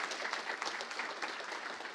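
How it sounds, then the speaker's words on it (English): Audience at a programming talk on animations from first principles applauding, a dense wash of many hands clapping at moderate distance, steady for two seconds. "so now you have to clap twice."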